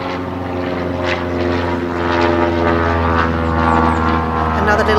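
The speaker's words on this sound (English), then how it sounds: "Let's just wait for the plane to go by." A small two-seater propeller plane flies past with a loud, steady droning engine hum that swells slightly as it passes overhead.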